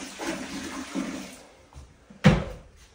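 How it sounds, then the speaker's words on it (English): Toilet flushing after half a gallon of antifreeze is poured into the tank during winterizing of a vacant home; a low rushing gurgle builds briefly, then a sharp loud surge near the end, with no speech. "pour it in half a gallon in the tank and flush it"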